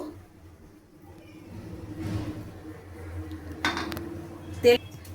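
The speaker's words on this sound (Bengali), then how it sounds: "আমি গ্যাসটা ধরিয়ে দিলাম, কড়াইটা আমি বসিয়ে দিচ্ছি।" A couple of metallic clanks as a wok is set down on a lit gas stove, with a faint background hum and quiet handling noises between.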